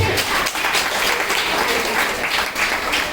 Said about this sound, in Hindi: और फिर से एक बार तालियां